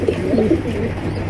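A pair of blue bar racer pigeons coo softly and close by, a couple of low throaty warbles rising over a steady murmuring background.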